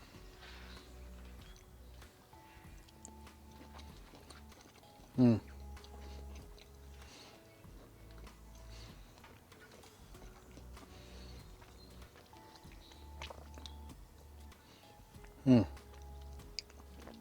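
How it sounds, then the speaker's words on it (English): Someone slowly chews blackened chicken, a steady soft mouth-working sound close to the mic over about seventeen seconds, with two sharp louder clicks or bites along the way and faint background noise. "Usually I'm like 2 chews in a swallow, but that I will chew slowly."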